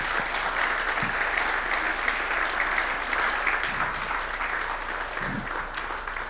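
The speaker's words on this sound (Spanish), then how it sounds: "¿Por qué no le damos un aplauso fuerte a todas esas madres?" A church congregation applauding for mothers: steady, sustained clapping from a large crowd, even in level throughout, with a few faint thumps underneath.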